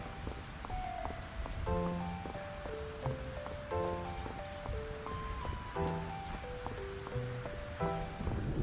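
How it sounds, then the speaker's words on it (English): Steady, soft rain patters continuously in the farming video game Fields of Mistria. Gentle plucked game music plays over it, and no one speaks. "the rain doesn't seem to stop people in Mistria as much as it does the people in Stardew Valley"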